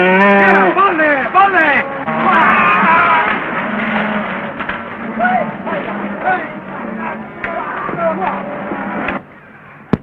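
Cattle lowing in a 1929 Western setting, several long overlapping moos from a herd, loud and close, with a faint voice beneath and a brief quiet tail at the end.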